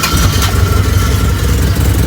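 A Toyota 5K engine with a ported vacuum advancer idles steadily up close, a low, even, throbbing rumble with no voices over it.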